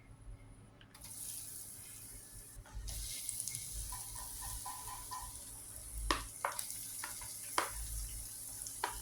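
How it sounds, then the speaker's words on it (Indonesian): Tempeh dropped into hot oil and frying, a soft steady sizzle that starts abruptly and continues with occasional clinks and splashes from the pan. "Sekarang kita masukin tempenya dan kita akan goreng setengah matang."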